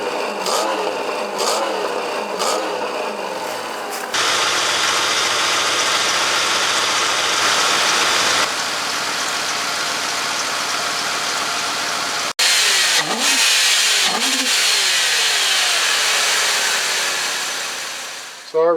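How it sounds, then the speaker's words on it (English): A Ford Crown Victoria engine runs close by, with a few quick revs at the start, a long steady run through the middle, and more sharp revs near the end. "So alright, you heard the motor run."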